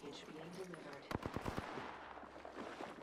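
Gunfire in the battle royale game Apex Legends: a quick burst of about five sharp, close shots in the middle, set against a busy game-sound background, with a voice heard.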